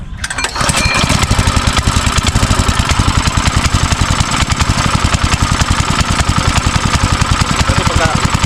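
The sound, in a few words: small farm engine running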